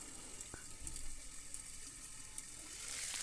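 Ginger garlic paste frying in a covered pan gives a soft, steady sizzle with faint crackles and pops. The sound is low in level and carries on throughout without any talk.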